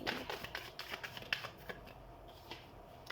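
Tarot cards being shuffled close by, a quick run of papery riffling flicks that thins out into a few softer snaps, with no talking.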